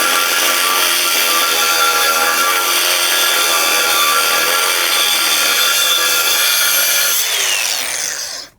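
A DeWALT 20V MAX XR cordless grinder cuts with its wheel, giving a loud, steady, high-pitched whine with gritty abrasive noise. It holds for about seven seconds, shifts in tone near the end, then winds down and stops abruptly.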